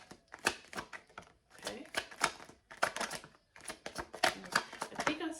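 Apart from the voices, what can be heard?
tarot cards being shuffled and drawn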